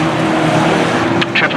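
A banger racing car roars past on the oval track at Arlington, a loud close engine drone with brief tyre squeals near the end and race commentary talking over it.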